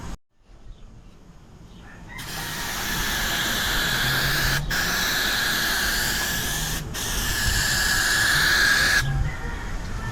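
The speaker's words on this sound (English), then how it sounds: "Let me spray it on and check how my body work and the blocking did." Aerosol can of guide coat sprayed onto sanded car bodywork in steady, loud hissing bursts, two brief pauses breaking a continuous close-up spray.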